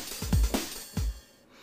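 Soft kick drum sample meant for a drum and bass beat, a few deep, rounded thumps in a loose pattern, close and fairly loud before fading to quiet.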